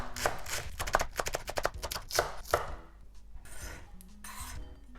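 A knife chops vegetables into slices on a cutting board in a rapid run of close, crisp strikes that slow to scattered softer cuts and scrapes, with no voices.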